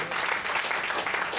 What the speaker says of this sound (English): Give an round of applause.